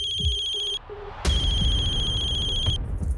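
A mobile phone rings during a tense crime drama scene, a repeating electronic ringtone with steady tonal pulses that cuts off briefly and resumes loud and close over a low background.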